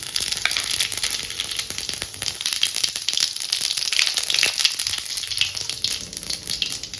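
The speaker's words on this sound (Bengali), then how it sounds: "এদিকে তেল গরম হয়ে গেছে। এখন আমি দিয়ে দেবো জিরা" Cumin seeds hit hot oil in a home kitchen pan and sizzle and crackle loudly and continuously, with dense spitting pops and no talk.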